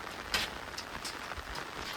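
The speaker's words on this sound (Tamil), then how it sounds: "மழை மட்டும் பெஞ்சிட்டு இருக்கு" Light rain falls steadily outdoors during a cyclone, a faint, even patter with a few slightly louder drops.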